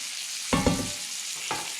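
Whiting and trout fillets fry in a pan with a constant crisp sizzle, broken by a couple of soft thumps and clatters as they are handled, up close with no talking.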